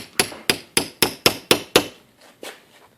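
Hammer taps on a rifle cartridge case held in a vise, knocking out a spent Berdan primer: seven sharp, evenly spaced metallic raps close by, then two fainter ones after a short pause, with no talking.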